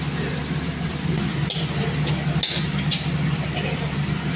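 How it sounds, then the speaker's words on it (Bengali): Capsicum fries in a pan with a steady, moderate sizzle over a low background hum, with a few brighter crackles and some voices in the background. "ক্যাপসিকামটা দিয়েই খালি ভাজছে।"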